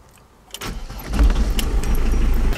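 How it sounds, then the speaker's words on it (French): A car engine cranks and catches about halfway in, settling into a steady low rumble with faint metallic clinks. The car sits in neutral, its exhaust silencer freshly replaced and sealed with paste. "Passez le point mort et démarrez le moteur."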